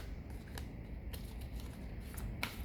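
Sticky oracle cards being shuffled by hand, giving soft papery riffles and a few sharper flicks in a quiet room.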